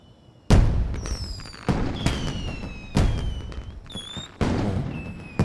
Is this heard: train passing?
no